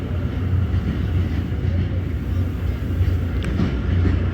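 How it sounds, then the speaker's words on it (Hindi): Jaffar Express train pulling into a platform on a foggy winter day, a loud continuous low rumble and rolling hum of the train close by, steady throughout. "जाफर एक्सप्रेस प्लेटफॉर्म नंबर 2 पर पहुंच रही है"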